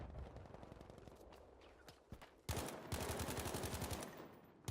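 Machine gun fire in the World War II shooter Battlefield V crackles in rapid bursts, scattered shots at first, then a loud sustained stream of rounds near the end, with no talk.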